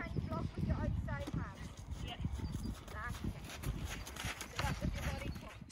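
A ridden horse trots during a lesson with pole work and flying changes, hooves clip-clopping in a steady rhythm close by while people talk over it.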